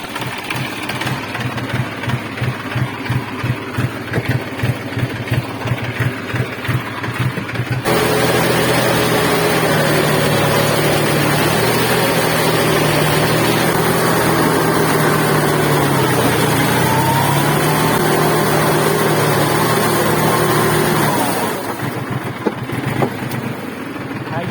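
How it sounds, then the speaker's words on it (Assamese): A tractor engine ticks over with a rapid, regular chug, then swells into a loud, steady running drone for about fifteen seconds before dropping back to an idle putter, close by in open farm fields. "তো গাইস গৈকে ট্ৰেক্টৰ উঠি লওঁ"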